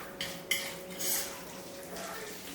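A spoon scraping and clinking around a bowl of homemade guacamole with jalapeno and pepper, two sharp knocks early followed by softer wet stirring and scraping, close and alone.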